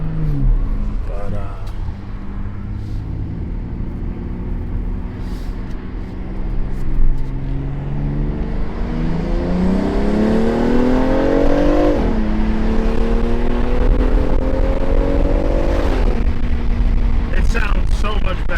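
A BMW X3M fitted with cold air intakes revs repeatedly while underway, its engine note climbing through the gears and dropping back with loud induction roar, close and powerful, with occasional voices in the cabin.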